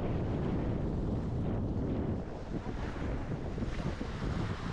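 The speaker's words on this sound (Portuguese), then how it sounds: "tá batendo onda aqui em cima porque a maré tá um pouquinho alta." Waves break against rocks on a beach at Praia do Forno, Arraial do Cabo, at high tide, under strong, steady wind buffeting the microphone; loud, continuous roaring surf with no voices.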